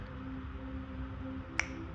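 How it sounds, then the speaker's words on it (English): One crisp finger snap cracks sharply near the end against a quiet, hushed background. "when I count from 3, 2, 1 and snap my fingers, the future you appears"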